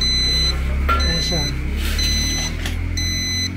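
A heater's timer alarm beeps in repeated high, steady bursts, with someone speaking over a low, constant hum.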